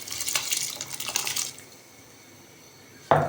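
Rice tipped into spiced boiling water for Hyderabadi mutton biryani, a bright rushing pour and splash for about a second and a half, then quiet bubbling and a sharp clunk at the end.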